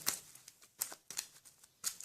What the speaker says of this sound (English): Let's shuffle the event deck for the initial spawn